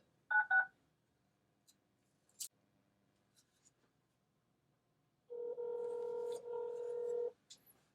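Two quick electronic dialing beeps sound close by from an EnGenius FreeStyl 2 long-range cordless phone, followed after a pause by a longer steady phone tone lasting about two seconds.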